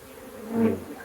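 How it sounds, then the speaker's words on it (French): A honeybee swarm buzzes steadily at the hive, a dense close hum that swells briefly in the middle, with no talk. "Donc là, on les entend bien bourdonner."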